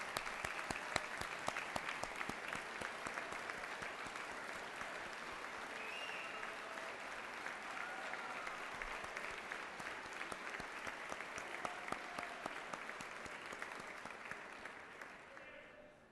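A commencement ceremony audience at West Virginia University's College of Physical Activities & Sport Sciences applauds in a long, steady round of clapping that fills the hall, fading out at the end, with faint voices mixed in.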